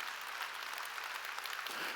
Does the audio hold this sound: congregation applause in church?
yes